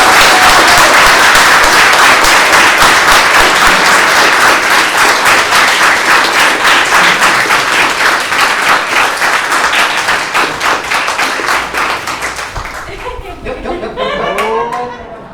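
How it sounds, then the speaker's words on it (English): Loud, sustained applause from a conference audience welcoming guests Giulio Brizzi and Sylvester McCoy at POPCON 2020, dense clapping that slowly thins toward the end as a voice begins to speak. "Mesdames et messieurs, un tonnerre d'applaudissements pour nos invités Giulio Brizzi et Sylvester McCoy"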